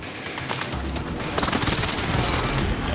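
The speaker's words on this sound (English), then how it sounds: "Drops an airstrike." Airstrike explosions in the Warzone video game, a dense rumbling barrage of blasts that swells and stays loud and continuous for the whole stretch, with no talking.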